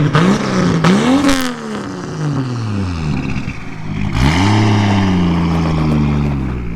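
An engine is revved hard on a dyno, rising and falling twice in loud sweeping pitch, then settling into a sustained high-rev drone; no talking.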